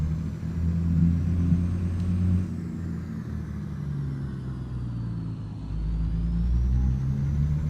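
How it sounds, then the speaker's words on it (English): Upgraded heavy-haul truck engine in American Truck Simulator, driving with a steady low diesel rumble that dips briefly midway and then swells again, continuous and close, with no talking. "I got a better engine."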